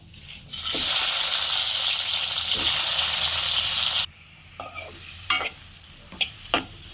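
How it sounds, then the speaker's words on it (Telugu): Tomatoes hitting a hot pan set off a loud, dense sizzle that holds for a few seconds, then cuts off and gives way to a few scattered clinks and short bursts. "ఇప్పుడు ఇదే దాంట్లో టమాటాలు వేసుకుంటున్నాను"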